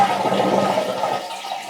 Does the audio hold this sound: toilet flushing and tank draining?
yes